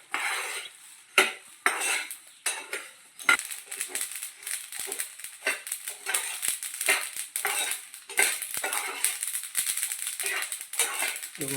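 Spices roasting in a pan for prawn pickle are stirred with a metal spoon, giving close, irregular scraping and clattering against the pan in quick bursts with brief pauses between.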